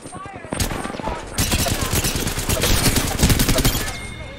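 Rapid automatic gunfire in a battle royale video game, dense sustained bursts of shots that grow louder and fill the whole stretch, loud and close.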